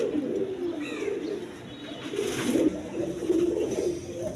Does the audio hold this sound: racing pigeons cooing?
yes